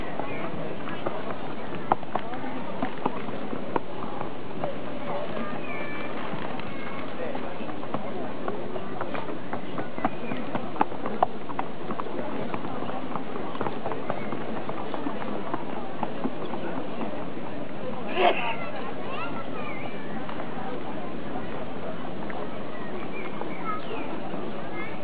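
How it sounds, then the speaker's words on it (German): Arabian racehorses are led around the parade ring at an Iffezheim race meeting. Their hooves clip-clop intermittently beneath a steady murmur of crowd and voices for the whole stretch. "Und die Pferde sind jetzt schon führig."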